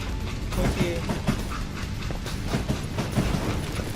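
A train in the Western video game Call of Juarez: Gunslinger rattles and clanks steadily, with rhythmic clickety-clack of wheels and metallic knocks at moderate loudness.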